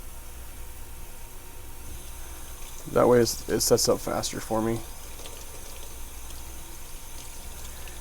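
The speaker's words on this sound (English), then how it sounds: "so I'm going to go through and use some warm water." Warm water running from a tap for mixing dental stone, a brief splashing pour of about two seconds in the middle, while a person speaks nearby.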